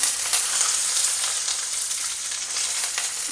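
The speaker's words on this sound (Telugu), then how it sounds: "ఈ స్టేజ్లో ఉన్నప్పుడు మనం ఇందులోకి ఆనియన్ యాడ్ చేసుకోవాలి." Onion, curry leaves and peanuts frying in hot oil in a pan, a steady close crackling sizzle with bright spitting pops throughout, no talking.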